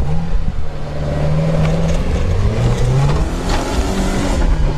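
A Lada Niva 4x4 engine revs hard while climbing a mountain hill, a loud, steady growl that rises and falls in pitch as the throttle is worked, close and continuous with no talking.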